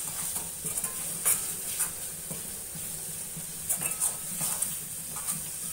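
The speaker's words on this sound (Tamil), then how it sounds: "கொஞ்சம் இந்த மசால் வதங்கட்டும்." A ground onion-tomato masala sautés in a pan for goat lung gravy, with a low sizzle and hiss under repeated bright metal clinks and scrapes of a spoon against the pot.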